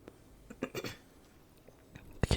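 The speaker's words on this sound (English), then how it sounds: "I had to clear my throat." A few short, rough throat-clearing bursts close by, spaced out over a couple of seconds, with a louder double burst at the end.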